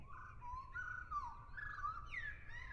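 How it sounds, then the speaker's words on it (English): Soft chirping and warbling bird calls from the video game Deltarune, faint and continuous over a low background hum, with no talking. "I'm digging these bird noises. I'm wondering what kind of birds they are."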